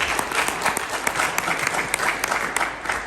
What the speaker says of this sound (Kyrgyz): Ошого дагы кол чаап койсоң.